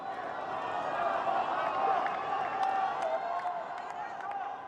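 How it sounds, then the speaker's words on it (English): A US Open tennis crowd in a 2024 fourth-round match between Zheng Qinwen and Donna Vekic cheers and roars steadily. The noise is broad and sustained and carries a faint clatter of applause. "listen to that crowd"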